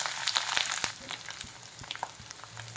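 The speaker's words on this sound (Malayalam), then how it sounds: "ഞാനിവിടെ ഇഞ്ചി വറുത്തെടുക്കാൻ വേണ്ടിയിട്ട് മാത്രം കുറച്ച് എണ്ണ ഒഴിച്ചിട്ടുണ്ട്." About 50 grams of ginger fries in four spoons of sesame oil for a Kerala-style inji curry pickle, a close, continuous sizzle with bright crackling pops and occasional stirring scrapes.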